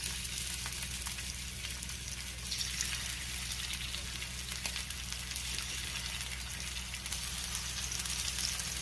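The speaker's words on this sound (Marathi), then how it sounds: "तेल गरम झालंय, आता आपण कोळंबी ठेवूया।" Prawns frying in a little hot oil on a flat pan, a soft, continuous sizzling hiss heard at low level over a steady low hum, with no talk.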